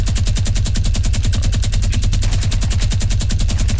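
Rapid, steady automatic gunfire in the Fortnite video game, a fast even rhythm of shots running loud and unbroken throughout with no talking.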